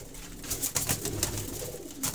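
Sialkoti and regional pigeons coo in a short burst of soft, throaty calls, several overlapping coos close by against a low background hum.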